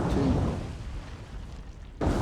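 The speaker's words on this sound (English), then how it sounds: "With a secondary explosion on her. Her magazine must have just gone up." A ship's magazine detonating in the War On The Sea naval video game, heard as a deep, rumbling explosion that fades into a low roar before a second heavy boom hits near the end.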